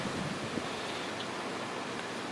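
Wind gusts outdoors as a steady, full roar of broadband rush blowing across the microphone, loud and continuous with no voices.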